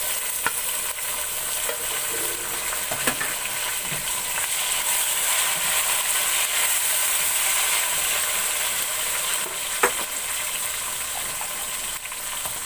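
Finely chopped tomatoes fry with garlic and browned onions, giving a constant close sizzle and hiss, broken by occasional spoon clinks and stirring scrapes against the pan.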